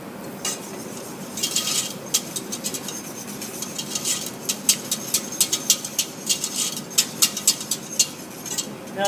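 A utensil stirs a milk-based sauce in a pan, scraping the bottom with repeated metallic clinks and scrapes in a fairly steady rhythm, close and clear with no talking.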